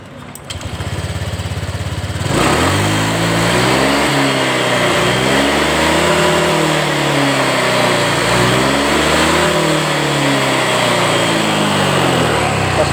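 A Honda Vario 125 scooter with a throttle delay fault, its engine revved up and held at a loud, close, steady high idle with wavering pitch swells after a brief start, no talking.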